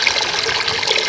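Water gushes steadily out of a Ford Expedition 4.6 heater core during a flush, a continuous close splashing rush with no talk over it.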